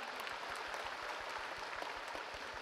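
Audience applause at a basketball fan festival prize draw in an arena, broad steady clapping from a crowd, fairly faint and distant, with a low rhythmic thumping underneath.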